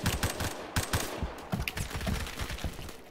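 Rapid KSG shotgun fire in the Roblox game Phantom Forces, a dense run of loud, sharp blasts repeating every fraction of a second with no pause between them.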